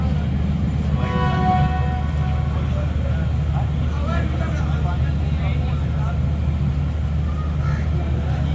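The Awam Express stands at Taxila Cantt Junction station as a brief tonal whistle sounds near the start over a steady low rumble of the train, followed by ongoing mechanical noise and a person talking.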